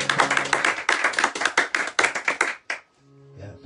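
A small sold-out concert crowd claps for a performer, a dense close burst of hand claps lasting a couple of seconds, then stopping abruptly.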